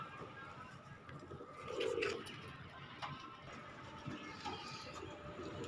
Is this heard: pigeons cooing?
yes